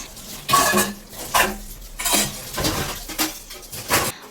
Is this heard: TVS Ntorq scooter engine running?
no